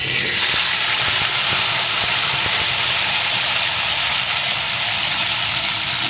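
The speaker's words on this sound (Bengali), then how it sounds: "এখন আমি এর ভিতরে কেটে ধুয়ে রাখা পেঁপেগুলোকে দিয়ে দেব।" Chopped papaya frying in a pan gives a loud, continuous hiss and sizzle close by, steady for the whole stretch with no talk.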